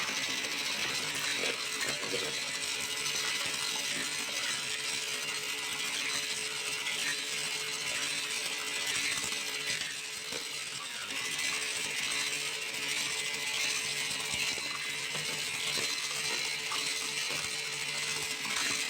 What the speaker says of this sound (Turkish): şimdi yumurtamız güzelce köpük köpük olana kadar çırpacağız